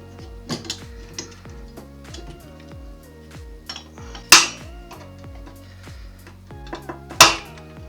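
Sharp metallic clicks and scrapes from X clamps being pried off an Xbox 360 motherboard by hand without the proper tool, with two louder snapping pops among quieter clinks and taps, close up.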